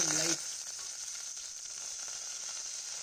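Celery with a pinch of sea salt sautéing in a pan, a steady close hiss and sizzle that runs unbroken after a brief louder start.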